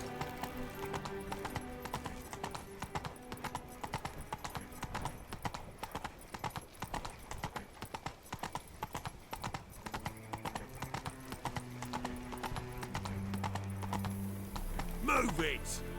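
Steady clip-clop of the horse Roach's hooves in The Witcher 3, a rhythmic trot running under music and game sounds, with a neigh near the end and a voice speaking.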